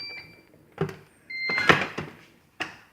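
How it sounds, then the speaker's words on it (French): A pressure cooker lid is set down and closed in a kitchen while beef and carrots in red wine are prepared, giving a few separate clunks and a scraping metallic latch, close and fairly loud, with brief electronic beeps. "On ferme le couvercle."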